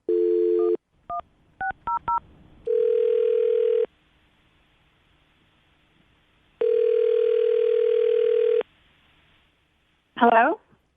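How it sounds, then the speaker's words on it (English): A telephone dial tone, a quick run of keypad beeps, then two long ringing tones on the line, with a brief voice at the very end. "I'm going to call her right now, get her on the phone"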